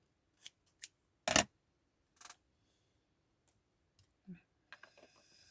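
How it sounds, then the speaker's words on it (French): Scissors snip paper for a colour swatch chart: a few crisp, isolated cuts with one loud close snap, separated by quiet pauses, ending in a soft rustle. "je ne sais plus couper droit"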